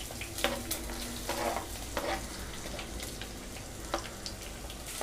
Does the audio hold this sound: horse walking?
no